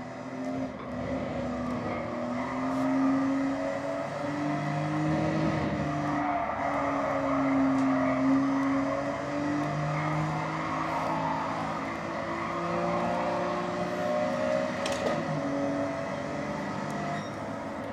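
Race car engine in the video game Gran Turismo 7, with a steady droning roar that rises and falls as the car shifts through gears, continuous and fairly loud.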